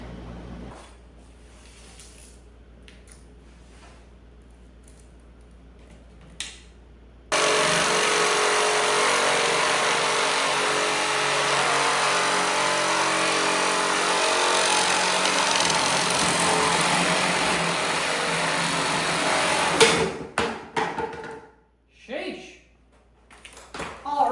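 A power tool cuts a 27.5 inch piece in one loud, steady run of about twelve seconds, close by, starting abruptly after a quiet stretch and stopping into clattering handling sounds.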